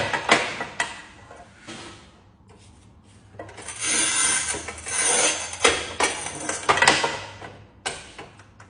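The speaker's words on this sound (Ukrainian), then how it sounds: "беремо на нашому сігмарезіку і так прорізаю" Porcelain tile being cut with a Sigma manual tile cutter, giving bursts of scraping and rasping as the wheel scores across the surface, close and fairly loud, with quieter handling between strokes and no talking.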